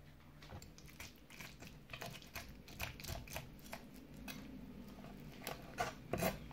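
A knife cuts through a sea bream fillet on a board in Japanese-style filleting, making quiet repeated rasping, scraping strokes at close range.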